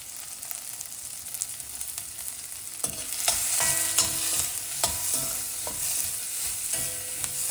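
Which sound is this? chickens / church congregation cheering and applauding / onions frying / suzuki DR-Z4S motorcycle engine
onions frying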